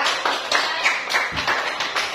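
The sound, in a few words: clapping hands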